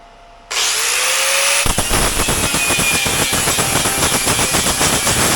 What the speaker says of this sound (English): so I'll grind that off and see how that looks